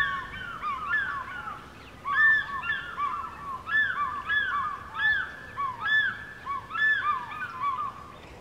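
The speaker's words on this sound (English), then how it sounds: "When they were apart, they would call to one another, a beautiful, fluty cry" Birds in Kenya's Rift Valley call back and forth in repeated fluty, honking cries. The calls come in steady rhythmic bursts over a soft, constant outdoor background.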